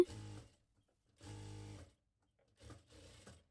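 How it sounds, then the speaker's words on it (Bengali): Sewing machine stitching the neck of a shirt while a chain is attached, running in three short bursts of steady mechanical whirring separated by quiet pauses, close and fairly soft. "দেখেন 8 ইঞ্চি অনুযায়ী আমি সেলাইটা দিয়ে দিচ্ছি।"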